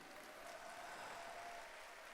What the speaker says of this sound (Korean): 대합창해주신 노동자들에게 다시 한번 큰 박수 부탁드리겠습니다.